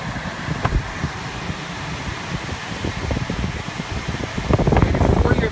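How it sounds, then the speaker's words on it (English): The air conditioning fan in a 2015 Buick Encore gives a steady, close whooshing hiss from the cabin vents, with faint murmured voices and a slight swell toward the end. "Of course, you have your air conditioning."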